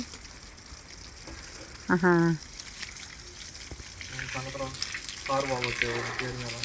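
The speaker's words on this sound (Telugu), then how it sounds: "నీళ్ళు పడుతున్నా" Water runs steadily from a tap while a container fills, a continuous rushing hiss, while people talk and call out in short bursts over it.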